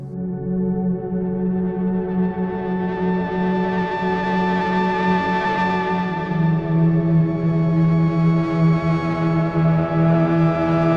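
A sustained, warm Korg King Korg Neo synthesizer pad holds steady for the whole stretch, slowly shifting in brightness with a soft wash of effects, loud and continuous with no voices.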